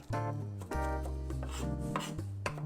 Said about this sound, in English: So I got 4 cloves of garlic here. Cut off the tip end. Just mash it.